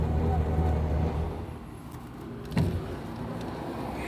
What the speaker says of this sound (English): it's a clunky vehicle to drive. Makes a horrendous noise and really doesn't go that fast either